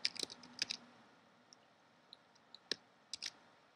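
Typing on a computer keyboard: quiet, sparse key clicks in small clusters and single taps, close by in a quiet room with no talk.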